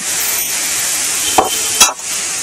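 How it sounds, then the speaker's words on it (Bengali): Eggs sautéed with spices in a hot pan give a loud, steady sizzle, broken twice by quick scraping stirs of a utensil near the end. "মশলাগুলো দিয়ে ডিমগুলো আমি আর একবার খুব ভালো করে কষিয়ে নেব"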